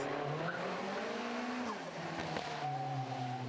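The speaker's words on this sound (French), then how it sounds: "c'est une Nissan Micra de 1987 auquel j'ai greffé un 2 litres turbo de Nissan Sunny GTI-R" A 1987 Nissan Micra fitted with a 2-litre turbo engine from a Nissan Sunny GTI-R races at a historic hill climb, its engine roaring loud and close with shifting pitch and a brief tyre squeal.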